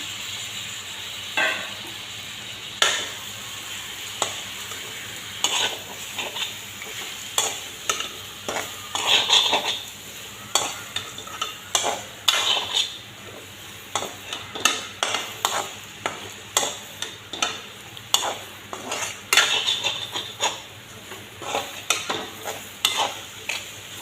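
Chicken meat fries in a pot under a constant sizzle, with a rhythmic series of spatula scrapes and stirs repeating close up throughout, no voices.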